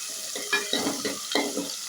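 Soft tomato masala frying in oil makes a quiet sizzle, with a few stirring scrapes in short bursts close by and no voices.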